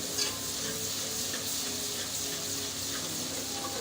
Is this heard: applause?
no